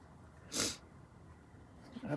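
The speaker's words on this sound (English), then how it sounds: "But I sneezed again, didn't I?" A single sharp, close sneeze bursts out during a home craft session, followed by quiet room tone and a faint breathy sound near the end.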